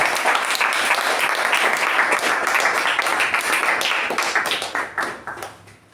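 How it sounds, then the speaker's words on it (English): Applause from a Toastmasters club meeting audience: loud, dense clapping from many hands that holds steady for several seconds, then thins out and fades to a few scattered claps. "please share my commendation by giving a big round of applause for Toastmasters"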